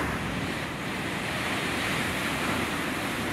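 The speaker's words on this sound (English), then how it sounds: "We're here at the Spouting Horn on the Oregon coast, south of Yachats." Ocean surf at the Spouting Horn blowhole on the rocky Oregon coast, a loud continuous roar of crashing waves with wind noise, no pauses across the short stretch.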